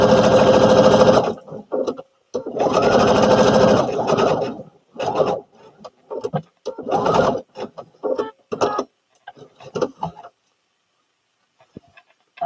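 A sewing machine stitches a Butterick B5572 garment in a non-knit fabric, running in loud bursts of a second or two separated by pauses, with shorter intermittent stitching runs and handling noises later.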